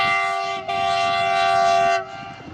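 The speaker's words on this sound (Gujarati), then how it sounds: "રેલગાડી નીકળી છે" A loud, sustained train horn blares nearby as a train goes by, with rumbling underneath, cutting off near the end.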